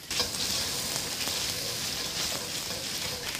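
Chunks of fatty mutton sizzle and spit in hot lard in a wok, a steady close frying hiss with a few soft stirring scrapes throughout.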